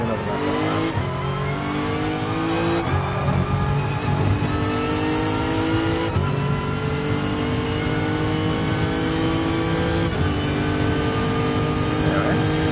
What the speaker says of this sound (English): Some good revs out of this car